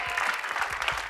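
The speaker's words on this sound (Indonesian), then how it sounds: "tepuk tangannya dong sayang cakep" A studio audience claps in a brief, dense burst of applause on an Indonesian celebrity show, steady and close throughout.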